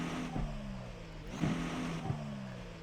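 An Acura ARX-06 prototype race car engine in the iRacing simulator, a low droning, tractor-like tone with a few short revving bursts, fairly quiet and unaccompanied by talk.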